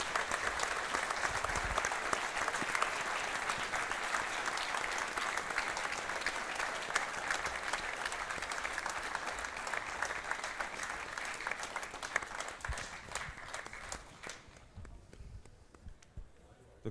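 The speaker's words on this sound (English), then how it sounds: "big round of applause" Sustained audience applause fills the hall at a live boxing awards show in an arena ring, a steady dense clatter of clapping that carries on for about fourteen seconds before tapering off.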